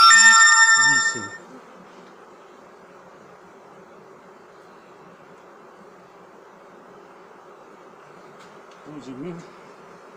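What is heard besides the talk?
honey bees buzzing around the hive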